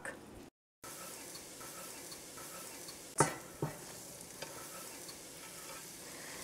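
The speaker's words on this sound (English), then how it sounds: "I love the smell of chopped onions and then cooked with the butter" Chopped onions cook in butter in a pan with a continuous soft sizzle. A few sharp clinks and stirring scrapes sound close by.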